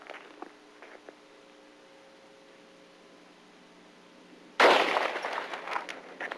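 A single sharp gunshot from a handgun fires after a quiet stretch, loud and close, with its echo and room noise trailing off for about two seconds.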